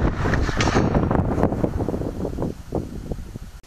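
Strong wind buffets the microphone outdoors at a shooting position before a sitting-position shot at 225 yards with a .44 Magnum, a steady broadband roar that dips slightly near the end with no clear gunshot.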